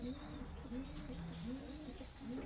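Slender-bodied pigeons kept at home give repeated rolling coos, each phrase a rising and falling swoop about every half second, over a steady hiss of background noise.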